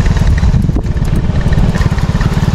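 A motorcycle engine runs steadily on a rough mountain trail toward a campsite, a loud, close, pulsing low rumble throughout with no clear talk.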